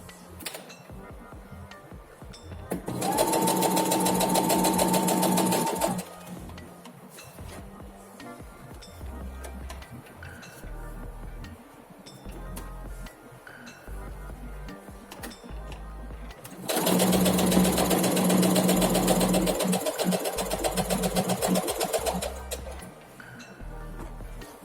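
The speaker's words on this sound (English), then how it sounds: "you have to pull as you sew so that everything is nice and straight" A sewing machine stitching an elasticated waist skirt runs in two loud, steady bursts of about three and six seconds, separated by quieter handling sounds with no talk.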